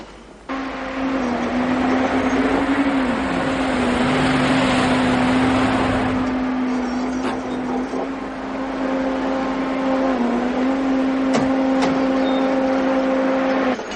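A car driving, a steady loud engine hum with a sustained whining tone that dips slightly and rises again, with a brief rushing swell of road or wind noise early on, continuous throughout.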